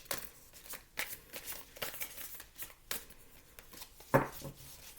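Tarot cards are shuffled and riffled in a string of quick, close papery flicks and slides, ending with a sharper snap as a card is drawn out.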